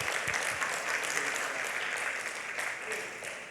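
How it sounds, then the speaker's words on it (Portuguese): A church congregation claps in dense, steady applause that fills the room for several seconds, broad and continuous without breaks. "Uma salva de palmas para o nosso Senhor Jesus Cristo"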